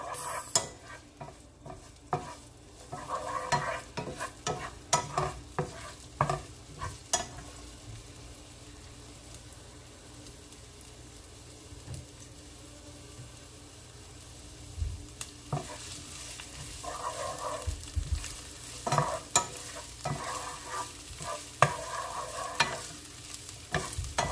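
Onion and garlic fry in a pot for Jamaican-style carrot rice, giving a steady sizzle broken by frequent clattering stirs and scrapes of a utensil against the pot, close and fairly loud.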